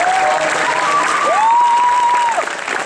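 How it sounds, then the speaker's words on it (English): Audience applause for a strength and conditioning coach at a conditioning center event, a steady dense wash of clapping with a faint tonal whistle-like sound drifting above it. "So let's give Coach Ctr a nice round of applause."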